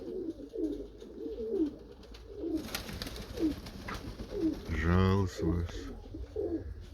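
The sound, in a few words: pigeons cooing in a pigeon loft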